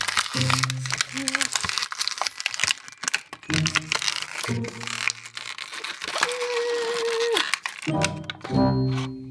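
Plastic packaging around Miniş toy figures is opened by hand, with repeated crinkling, crackling and tearing bursts close by, mixed with talk and a few short tonal sounds.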